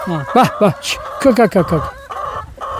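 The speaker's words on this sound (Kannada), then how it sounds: "ಇವೆಲ್ಲ ನಾಟಿ ಕೋಳಿನ? ನಾಟಿ ಕೋಳಿ ನೋಡಿ" Native (country) chickens on a farm clucking close by in short bursts, mixed with a few higher calls, while a person talks over them.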